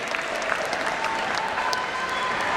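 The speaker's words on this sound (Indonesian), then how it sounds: "Boleh tepuk tangan teman-teman semua" Steady applause from an audience at a book launch discussion on Islam and politics at a book fair, a fairly soft, even wash of clapping with no speech.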